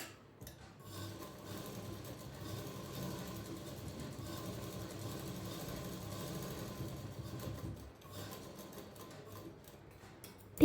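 A sewing machine runs a steady, close stitching whir for about eight seconds, laying a second seam just beside a fresh one on a blouse strip, then stops briefly before starting again.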